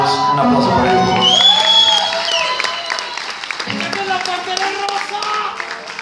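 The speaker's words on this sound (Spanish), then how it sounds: "Un aplauso para ellos." Theatre audience claps, cheers and whoops after a band is introduced, loud at first and then tapering, with shouts and voices running through it.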